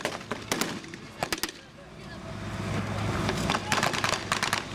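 Gunfire at a World War II reenactment, including an American M1 Garand semi-automatic rifle: several sharp shots in quick bursts, some close together, over a steady outdoor rumble, loud and fairly near.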